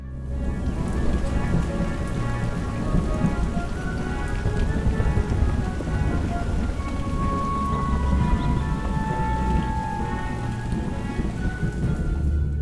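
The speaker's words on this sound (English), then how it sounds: "It's raining down on him. It's thunder. It's lightning." Heavy rain pours continuously while low thunder rumbles beneath it, a dense, steady storm soundscape with no voices.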